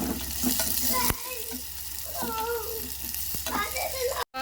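Chopped onion hits hot oil already popping with cumin and mustard seeds, giving a continuous close sizzle with light stirring scrapes and faint background voices.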